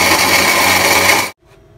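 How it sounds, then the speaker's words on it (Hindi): A kitchen mixer grinder whirs loudly at high speed while grinding dried turmeric in its jar, a steady dense roar that stops abruptly, leaving a faint rattle afterward. "सिर्फ मिक्सी जार में आपने डाल के इसको पीस लेना है"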